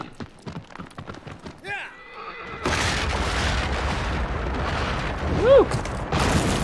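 A horse neighs in Shadow of the Colossus, a short whinny near the start followed by a louder rumbling passage with another sharp neigh later, while someone talks over parts of it.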